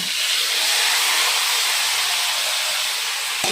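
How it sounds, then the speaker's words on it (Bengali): Garam masala and dried red chillies sizzle in hot oil as the first step of a meat biryani, a continuous loud, close hiss that holds evenly throughout. "এই যে গরম মশলা আর শুকনো লঙ্কা ফোড়ন দিয়ে দিলাম"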